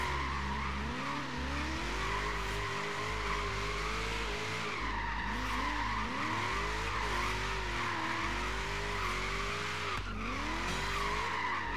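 Ford V8 Boss S14 driving in Forza Horizon 3, a steady engine drone with pitch rising and dropping through gear changes, joined by constant tire skidding and squeal as the car slides through corners.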